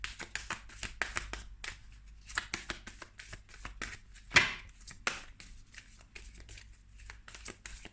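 Oracle rune cards being shuffled by hand, a close series of soft papery riffles and taps with one sharper slap partway through, no talking.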